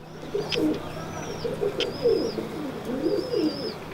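A pigeon coos in repeated soft throaty phrases, close and steady, with faint chirps from other birds behind.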